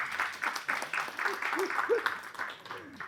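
Scattered clapping from a small audience at a film press meet, moderate and uneven, with a voice speaking briefly over it.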